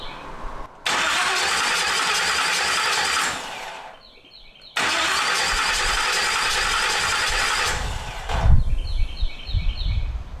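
A hot rod engine cranks over with its ignition disconnected, so it never fires. A loud, steady starter whir runs twice, split by a brief pause, and ends in some low knocking and handling noise.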